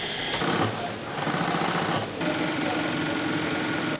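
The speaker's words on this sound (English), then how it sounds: "Hundreds of stitches must be made to sew a single Rolls-Royce logo into the leather." An industrial embroidery machine stitches a Rolls-Royce logo into leather with a fast, steady mechanical chatter that pauses briefly and then runs on evenly, close and fairly loud.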